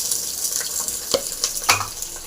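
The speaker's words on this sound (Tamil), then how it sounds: "போட்டு நல்லா ஃப்ரை பண்ணிக்கோங்க" Onion, green chili, garlic and ginger fry in hot oil in a clay pot for a soup, giving a bright steady crackle with a few sharp stirring scrapes and knocks, and no voices.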